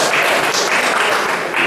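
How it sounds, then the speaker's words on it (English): An audience at a PhD public defense breaks into a short burst of steady, dense applause that fills the room. "And therefore, we must clap for that as well."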